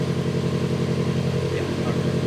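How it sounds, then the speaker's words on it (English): A Subaru Legacy GT engine with a rebuilt transmission revs high and steady with a rough, buzzing drone and some rattling, held constant throughout at close range. "This thing's revving high as hell though."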